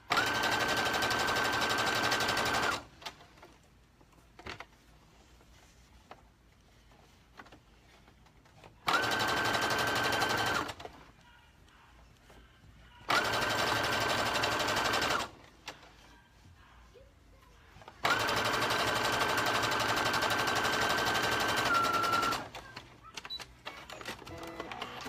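Sewing machine stitching a bodice runs in four separate bursts, each a few seconds long and fairly loud and close, with quiet pauses between.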